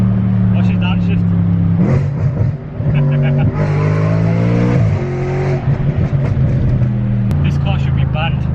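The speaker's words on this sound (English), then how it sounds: "Watch it downshift." A loud Audi RS5 engine downshifting on a drive through bends, heard from inside the car with a deep droning note that drops and rises in steps as gears change, under someone talking.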